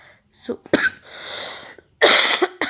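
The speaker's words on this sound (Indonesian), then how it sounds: "Maaf ya, aku batuk" A few sharp coughs close by, clustered in short bursts with brief pauses between.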